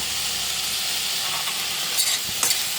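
Brinjal curry frying in a pan as tomato pieces go in, a steady close sizzle and hiss throughout with a couple of brief stirring scrapes near the end, no talk.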